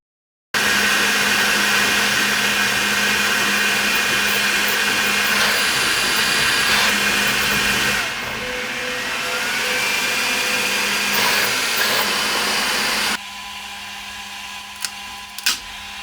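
A 3D printer begins a print job, giving a steady, loud mechanical whirring with fan-like hiss that runs continuously, dips in level partway through, then drops to a quieter hum near the end, with no talking.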